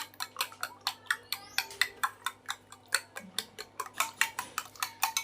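Eggs being whisked with salt and black cumin for an omelette make a quick, steady run of sharp clicks as the utensil strikes the bowl, close and clear with no talking.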